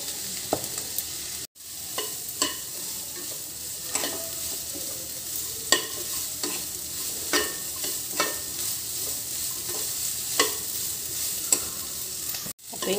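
Sliced onions frying in oil in a pan, a continuous bright sizzle broken by frequent scraping stirs of a spoon, close and alone with no talk.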